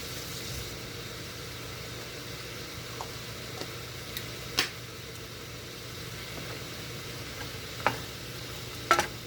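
Shrimp scampi with parsley sizzles quietly in a pan as it is stirred, a steady low frying hiss broken by a few faint clicks and scrapes of the utensil, with no talking.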